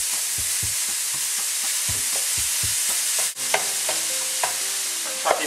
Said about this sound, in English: now we're just going to fry up the onion and the garlic